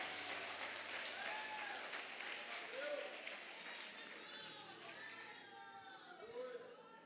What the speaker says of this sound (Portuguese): Aplauda Jesus, Ele é digno.